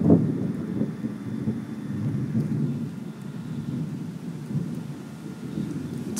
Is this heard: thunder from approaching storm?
yes